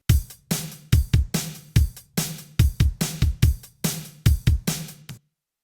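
A Linn drum machine layered with a SoCal acoustic drum kit in Logic Pro plays a steady 80s-style beat, punchy kicks and snappy snares in a regular rhythm, alone and close, stopping abruptly.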